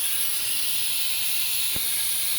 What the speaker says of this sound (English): This is his air compressor.